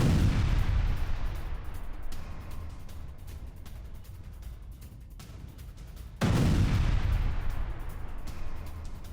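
Missile strike explosions on multi-storey residential buildings in Kharkiv, heavy distant booms rolling into sustained rumble, with a second loud blast hitting partway through.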